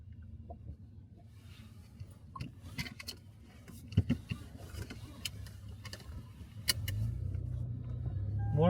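A car pulls away from a border checkpoint with a barrier on the road into the Pamir. Faint clicks and knocks come first, then a low engine rumble swells toward the end.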